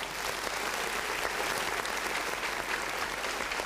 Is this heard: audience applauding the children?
yes